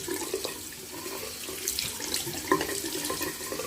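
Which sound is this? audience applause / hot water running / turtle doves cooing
hot water running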